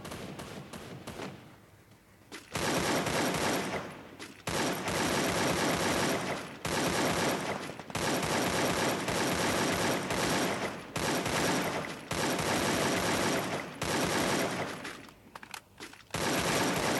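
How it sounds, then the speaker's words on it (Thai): Loud, sustained bursts of automatic gunfire in the video game Free Fire, several long volleys separated by short breaks, dense and close, with no talk over them. "นี่ทั้งรูมมีเสียงยิงกัน"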